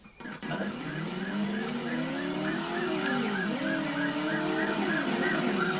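Car driving in the PlayStation 1 video game Driver, a steady engine drone with wavering pitch sweeps and a repeated chirping tone above it, continuous and loud for the whole stretch.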